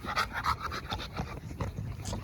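A working-type dog pants in quick, steady breaths, close and fairly loud, with no talking over it.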